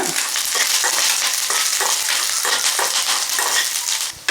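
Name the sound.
frying dried chilli and curry leaves in a pan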